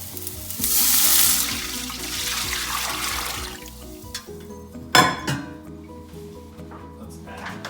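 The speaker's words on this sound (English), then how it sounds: "Let's add some water." Water poured into a pot of sautéed onions for split pea soup, a rushing splash hissing on the hot pan, then settling into gentle bubbling with a sharp clink of utensil midway.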